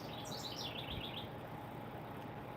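A pet bird gives a quick run of high, thin chirps in the first second, fairly close but soft, over a steady low room hum that carries on after the chirping stops.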